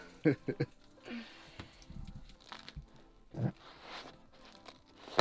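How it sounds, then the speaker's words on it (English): Bites into crispy pan pizza cooked in a van kitchen: a few sharp crunches near the start and again midway, close and fairly quiet, with people talking in between. "You hear that? It's kind of soft, crunchy, crispy."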